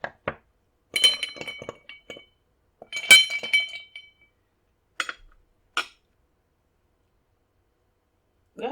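A spoon stirs a Rusty Nail cocktail in a glass, giving scattered, bright clinks in short bursts with quiet gaps between them.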